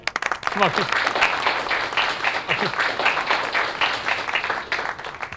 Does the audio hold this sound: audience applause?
yes